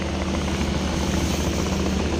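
A steady, buzzing whine of a DJI Mini 2 drone's small rotors hovering close by, constant in pitch and loudness over the brief span.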